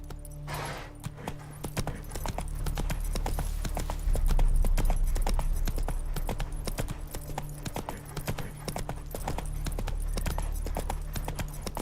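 Roach, the horse in The Witcher 3: Wild Hunt, galloping and then reined in: a long, steady run of close, crisp hoofbeats on the ground, rhythmic and strong throughout, with low background ambience.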